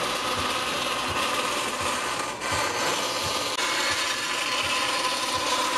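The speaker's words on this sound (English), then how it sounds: "cut these things out on the bandsaw" Bandsaw cutting out wooden pieces for viking shields of balsa and edge-glued poplar, a continuous dense whirring rasp with rhythmic low thumps, close and loud throughout.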